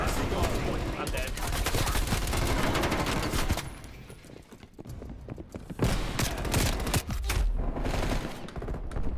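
Gunfire in a Call of Duty: Cold War Hardpoint match, with repeated sharp shot bursts crowded together over a dense wash of game sound. The firing thins briefly midway and then resumes loudly.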